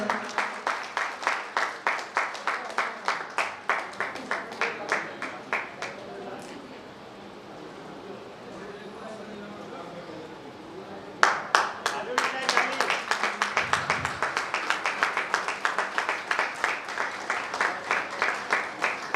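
An audience claps at an indoor event in a rhythmic, synchronized pattern, then goes quiet for a few seconds with some faint talk, then starts up again with loud, unified rhythmic clapping until the end.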